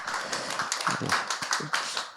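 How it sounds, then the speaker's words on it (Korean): A church congregation claps in thanks after a sermon and prayer, a fairly faint, brief patter of many hands with quiet room noise. "우리 감사의 박수 한 번 더."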